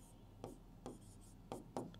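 Handwriting of examples on a page during a biology lesson, several quiet scratchy pen strokes in short bursts, faint and close, with no talking.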